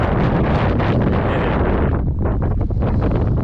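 Strong wind blasts across a mic beside a fishing lagoon, a loud continuous roar with gusty buffeting that never lets up.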